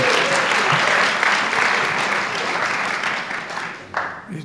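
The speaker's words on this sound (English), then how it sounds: "They're clapping to give you heart, you guys." Audience at a creative writing celebration claps steadily and fairly loud, a dense wash of hands that thins slightly toward the end, with faint voices underneath.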